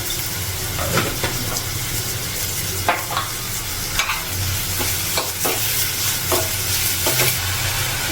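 Chopped onions fry with salt in a hot pan, a steady close sizzle and hiss with a spatula scraping and knocking at irregular intervals.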